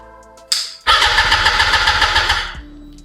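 A Yamaha R1 motorbike engine cranks on a weak battery, a short whir followed by a labored, rhythmic churning of the starter for about two seconds, loud and close, before it stops without catching.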